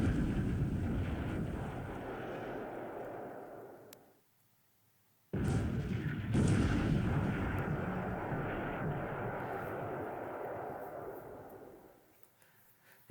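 Naval shell fire in the War in the Pacific strategy game: a rumbling, roaring wash of bombardment that drops to near silence for about a second, then resumes with sharp impacts and a sustained heavy roar before fading.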